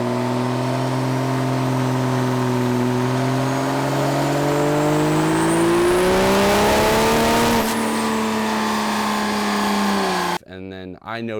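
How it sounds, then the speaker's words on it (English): A Cummins 6.8L diesel engine labours on a dyno, a loud sustained drone whose pitch rises slowly, then drops after a few seconds, ending abruptly with a short voice. "even on the dyno, you can kind of hear it sort of struggle to kind of come to life"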